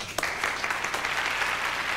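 An audience of a Fort Greene community gathering breaks into applause that builds quickly and stays steady and fairly close, clapping alone without voices.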